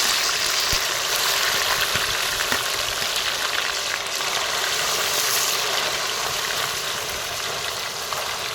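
Medium-sized cubes of paneer frying in hot oil until golden, a steady loud hiss and bubbling crackle that holds evenly throughout, with no voices over it.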